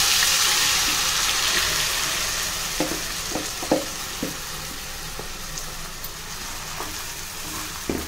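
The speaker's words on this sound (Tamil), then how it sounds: "இப்போ கடுகு பொரிஞ்சதுமே நம்ம இந்த விழுதை முதல்ல சேர்த்துக்கணும்" A ground paste is frying in hot oil with popped mustard seeds for a maakali kilangu pickle, giving a continuous close sizzle broken by scattered clinks and scrapes from stirring in the pan.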